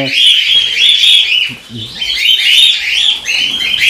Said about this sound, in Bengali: ককটেল পাখি খুব ভীতু পাখি, কারণ এরা হেবি চিল্লায়